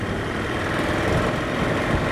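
A KTM 1290 Super Adventure S motorcycle engine rattles at low revs while pulling in sixth gear at around 40 mph, a steady, close, continuous low rumble with no talking.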